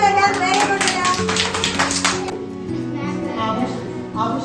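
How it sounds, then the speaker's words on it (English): A classroom of children claps together for a boy named Adam, a dense burst of hand claps that carries on for a few seconds before thinning out under a murmur of voices. "Clap for Adam"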